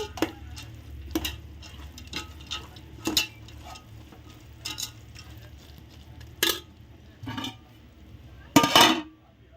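A spoon scrapes and clinks against a pan in irregular strokes, stirring boondi into thick sugar syrup, with sharper metallic knocks near the end.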